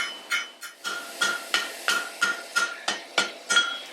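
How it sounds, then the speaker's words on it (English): A hammer strikes wrought iron to flatten a flat spot, about eleven sharp ringing blows in a steady rhythm, close and loud with metallic ring after each hit and no speech. "So I just kind of hammer out the flat spot a little bit."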